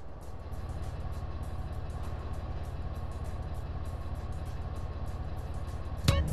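A car engine in GTA San Andreas drones steadily during a drive-by mission, a low rumble with a fast regular pulse throughout and a brief sharp crash near the end.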